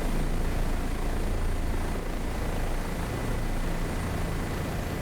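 A helicopter in the DCS World flight simulator game flying around Paris gives a steady, loud, broadband rotor and engine drone throughout, with no talk over it.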